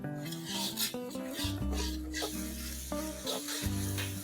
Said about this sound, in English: We're going to saute this masala till it's nice and dry.